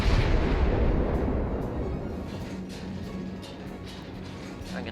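A warship's main-gun salvo in World of Warships booms loudly at the start, then rolls into a long fading rumble with faint crackling, with no voices present.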